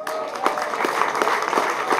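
An audience applauds continuously for a big band leader at a jazz concert, a dense, even wash of clapping heard close and fairly loud, with faint voices underneath.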